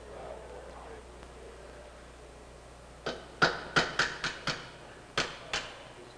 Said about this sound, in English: He's going to take a small chisel and a ball peen hammer and tap that wear ring piece out.